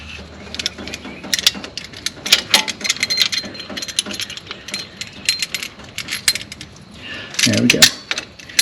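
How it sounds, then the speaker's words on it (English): Metal clinks and ratcheting clicks as a washer is gripped and unscrewed on a truck, a string of sharp, close taps and scrapes with a short rougher burst near the end. "What I'm trying to do is get hold of that washer because it won't just unscrew."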